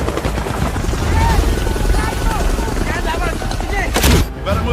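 An extraction helicopter in an action-movie battle throbs loudly and steadily, its rotor chop mixed with bursts of gunfire and shouted voices.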